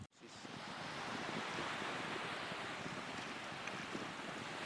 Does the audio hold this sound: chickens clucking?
no